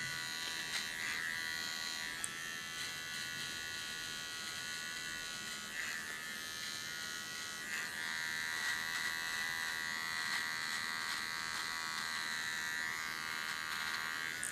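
A small electric hair clipper trims hair during grooming, giving a faint, continuous buzz that holds steady throughout with no one talking.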